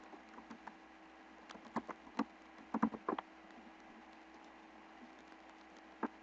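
Quiet computer keyboard typing as a username is entered, a sparse cluster of soft key taps in the middle followed by a single later tap, close and faint over a low steady hum.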